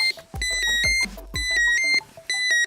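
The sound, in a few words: WASP stability protection unit going into full alarm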